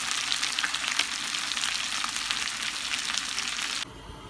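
Sea bass with red onion and lemon frying in a pan, a steady close sizzle with crackling spatter that cuts off abruptly near the end, leaving only a faint hiss.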